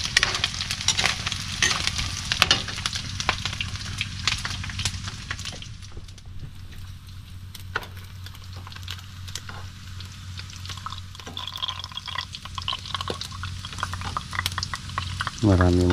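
Pork fat renders and fries in its own oil in a pan, giving a steady, close sizzle and crackle that runs throughout, with occasional light clinks of stirring and no talk.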